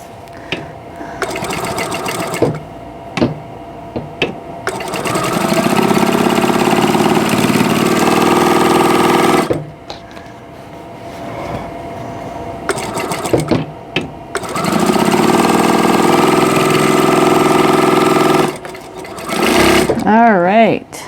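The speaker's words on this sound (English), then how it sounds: "And I'll turn them around and sew down the other side." Sewing machine stitching a quilt block, running in long, loud, steady bursts with short pauses between them, and a voice talking during the gaps.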